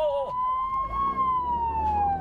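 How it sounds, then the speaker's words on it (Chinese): A police car siren wails steadily during a chase down a narrow alley, a clear rising and falling tone over low engine noise. "警车鸣笛追车，追进了小巷子。"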